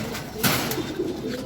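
Pigeons in a breeding loft give a brief, soft coo over quiet room ambience.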